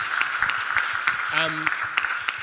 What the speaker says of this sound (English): a big round of applause for all of the peace builders in the room